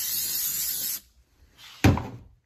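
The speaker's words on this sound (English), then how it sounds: "You just spray it onto the piece of wood" Spray adhesive hisses onto a piece of wood for a wooden-gear project in one steady, loud burst of about a second, followed by a sharp knock and a softer rustle.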